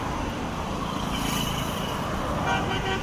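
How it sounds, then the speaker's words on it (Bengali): Cars roll along a calm Gulshan street in a steady low traffic hum, with a faint horn toot partway through. "তো দেখতেই পারতেছেন কত নিরিবিলি গাড়িগুলো চলতেছে"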